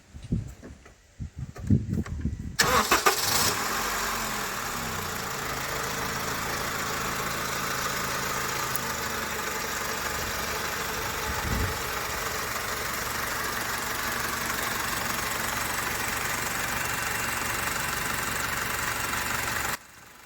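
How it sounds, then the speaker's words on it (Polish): Honda Accord 2.0 VTEC engine running on LPG idling steadily and evenly, a constant mechanical hum with faint ticking, after a few seconds of handling noise at the start. "jak słyszycie i widzicie, silniczek sobie równiutko pracuje"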